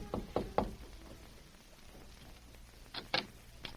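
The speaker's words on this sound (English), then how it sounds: "It was about a half an hour later when Northcott rapped on the door of Powell's house." Knuckles rap on the wooden door of a house in a Western drama: a quick series of three knocks, a pause, then another short burst of knocks, fairly close against quiet room tone.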